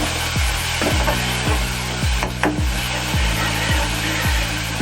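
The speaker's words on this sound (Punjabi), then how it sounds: "ਆਪਾਂ ਹੁਣ ਇਹਦੇ ਵਿੱਚ ਪਾ ਦੇਵਾਂਗੇ ਟਮਾਟਰ, ਹਰੀ ਮਿਰਚ ਜਿਹੜੀ ਕੱਟ ਕੇ ਰੱਖੀ ਸੀ" Chopped tomatoes and green chilies hit a hot pan of fried tempering for chana dal tadka, a steady sizzle with a regular run of scraping spatula strokes across the pan.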